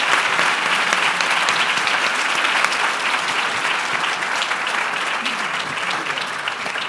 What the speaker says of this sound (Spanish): le quiero pedir un gran aplauso a Rosa